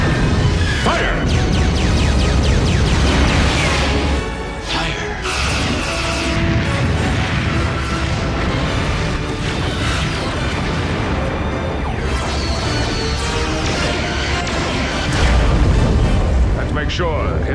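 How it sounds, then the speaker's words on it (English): Photon torpedoes and phasers firing in a Star Trek: The Experience attraction battle sequence, with loud, dense booms, blasts and crashing explosions layered continuously over music and voices. "Fire torpedoes. Fire phasers."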